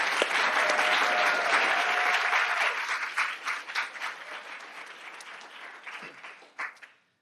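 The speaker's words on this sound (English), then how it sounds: "I think one more round of applause for her." A reception audience gives another round of applause for a speaker named Rachel. Thick, sustained clapping fills the first half, then thins into scattered claps and fades out, with a faint voice near the start.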